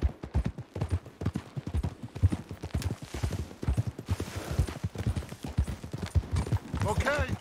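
Rhythmic hoof clip-clops from horses walking in Red Dead Redemption 2, running steadily under someone talking throughout, with a brief higher chirping near the end.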